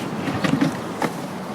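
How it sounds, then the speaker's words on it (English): Bags of frozen vareniki, twenty dozen to a bag, set down onto a trolley, giving a couple of soft muffled thumps and rustles over low background noise. "that's what 20 dozen frozen varenika sound being put down on a trolley"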